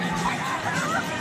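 A large arena crowd at the U.S. Gymnastics Championships roars and cheers steadily, a dense wash of shouts and babble with no single voice standing out.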